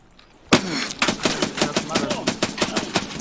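Rapid automatic gunfire in the video game Escape from Tarkov, opening with a sudden loud burst and continuing as a steady string of sharp, close shots.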